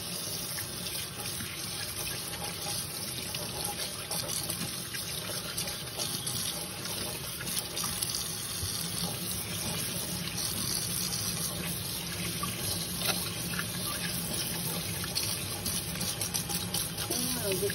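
Tap water runs steadily into a sink as hands are rinsed after lathering with soap, a continuous close splashing flow with no voices over it.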